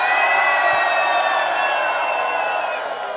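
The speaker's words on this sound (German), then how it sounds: "dann jetzt bitte Lärm und Hände für LBB Berlin" Audience at a Berlin freestyle beatbox contest semifinal roars for LBB with a dense wall of sustained whoops and cheering, loud and continuous for the whole stretch, easing slightly toward the end.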